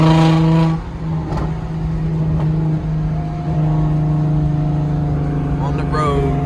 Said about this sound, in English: The engine's running great, and the car seems to be running great.